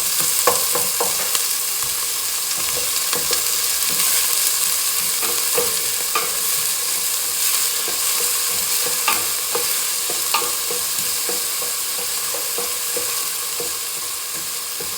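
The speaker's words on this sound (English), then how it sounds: "move that around and cook it until the onion gets tender" Onion sautéing in a pan for Italian meatball sauce, a steady frying sizzle with repeated scraping stirs of a utensil, close and continuous throughout with no talking.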